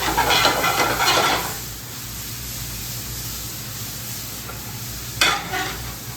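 Broccoli hits a pan of fried garlic with a loud sizzle for the first second or so, then settles into a steady softer frying hiss, with a brief burst of stirring sizzle near the end.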